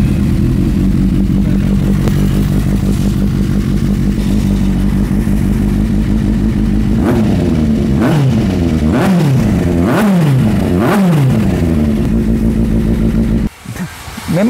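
A Kawasaki Z800 motorcycle engine with an oil pressure issue idles loudly and steadily, then revs up and down several times in quick bursts before cutting briefly near the end.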